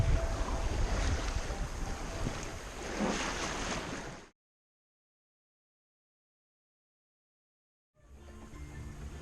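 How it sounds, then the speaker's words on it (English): Steady wind roars over open Atlantic water during a long sailing passage, with wave wash and microphone buffeting. It is loud and constant, cuts to silence midway, then resumes. "we hope that the wind that finally arrived today is going to keep up"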